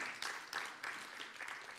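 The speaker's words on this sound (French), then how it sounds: "que je vous demande d'applaudir chaleureusement" Audience applause at a conference on the African diaspora, a steady patter of many hands clapping at moderate distance, fairly quiet throughout.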